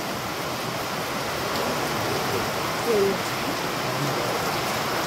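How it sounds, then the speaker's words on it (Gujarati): Heavy rain pours down steadily, a dense continuous hiss of drops striking surfaces, loud and unbroken from start to end. "વરસાદે મન મૂકીને ચાલુ થઈ ગયો છો"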